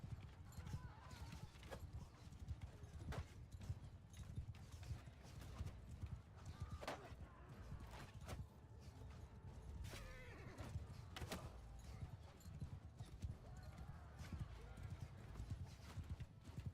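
Horses clip-clop in Mount and Blade II Bannerlord, hooves striking in an irregular steady rhythm with creaks and an occasional whinny, while a voice talks over the top throughout.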